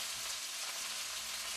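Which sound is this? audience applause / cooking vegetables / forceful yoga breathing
cooking vegetables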